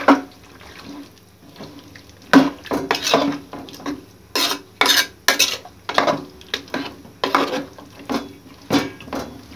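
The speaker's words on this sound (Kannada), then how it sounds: "ಮಿಕ್ಸ್ ಮಾಡೋಣ ಮಸಾಲೆಗೆಲ್ಲ" A spoon stirring spice masala in a metal cooking pot: repeated scraping and clinking strokes in an uneven rhythm, close and fairly loud, with a wet, liquid quality and no talking.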